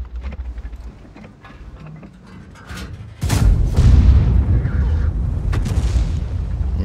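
A high-explosive tank shell fired in World of Tanks lands as one heavy, loud boom that rolls into a long rumbling roar, preceded by quieter mechanical ambience and engine hum.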